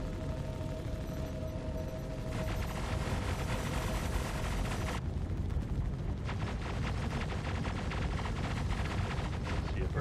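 Sustained, dense barrage of gunfire slamming into a ship's shields in the space game Star Citizen, a loud continuous roar of impacts and rumble with no pauses through the whole stretch.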